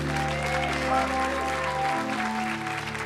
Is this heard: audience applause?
yes